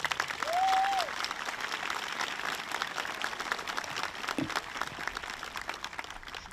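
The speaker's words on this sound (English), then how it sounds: "How about another round of applause for our musicians?" Audience applause for student musicians at an 8th grade school celebration, a steady moderate wash of clapping that holds throughout, with a brief tonal squeak near the start.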